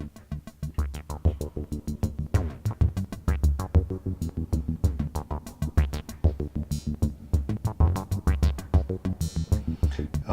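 Modular synthesizer patch with the third envelope and an A143.1 passing through a neuron module to control the filter, triggered by random gates from a clock: a steady, busy stream of plucky, filtered pulses with a deep bass throb, alone throughout.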